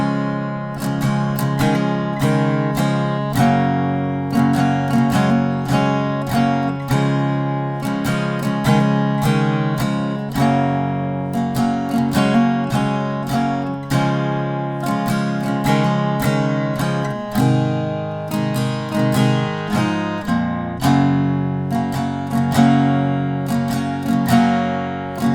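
Acoustic guitar strumming the intro of The 1975's Be My Mistake in a steady down-up pattern, ringing chords repeating through several changes, close and clear with no voice.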